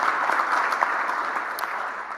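A hall of fame induction ceremony audience applauds steadily, a dense, even wash of many hands clapping with no break, loud and close throughout.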